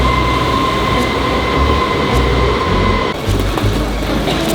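A train rolls along steadily with a loud, continuous low rumble, wheel and track noise, and a faint sustained tonal whine, close and enveloping, with no talking.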